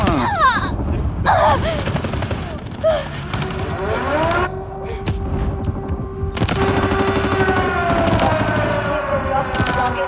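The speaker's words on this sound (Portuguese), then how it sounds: "olha a artilharia fazendo a festa aí" Artillery barrage in the mobile shooter Delta Force Mobile, with loud repeated explosions and rapid gunfire layered over a droning engine-like tone, heard up close amid constant battlefield chaos.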